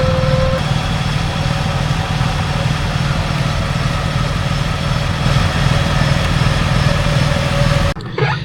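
A vehicle engine runs steadily with a low, heavy rumble, holding a constant drone as throttle is fed while pulling uphill; the sound stays loud and close throughout, with a brief dip near the end.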